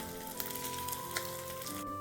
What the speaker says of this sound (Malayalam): അപ്പം ഞാൻ ഈ ഒരു രീതിയിൽ നമ്മുടെ മീൻ ഞാൻ വറുത്തെടുക്കുകയാണ്.